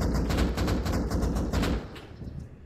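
Rapid gunfire in the console game Rust on PS5 during a PvP fight, a quick burst of several shots at moderate distance, fading slightly toward the end with no talking over it.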